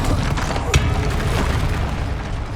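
A heavy booming blast from the Bombarda spell in the game Hogwarts Legacy, one sharp impact followed by a loud rumbling, crackling roar that fills the rest of the moment.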